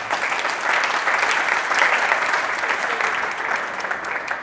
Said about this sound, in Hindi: इसके लिए आप लोग जोरदार तालियों के हकदार हैं